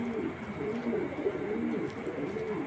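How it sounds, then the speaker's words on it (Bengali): A female racing pigeon coos repeatedly, soft low rolling calls in a steady rhythm, close by over a faint background hum. "এটা একটা মাদি কবুতর"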